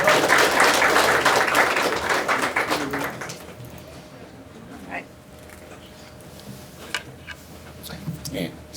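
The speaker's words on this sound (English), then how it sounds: "give her another round of applause here" Audience at an entrepreneurship Q&A event gives a round of applause: dense, steady clapping for about three seconds that then stops, followed by quiet room tone with scattered taps and handling noises.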